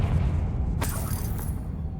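A Confringo fire spell cast in Hogwarts Legacy bursts with a sudden whooshing blast over a low rumbling game backdrop, then fades quickly.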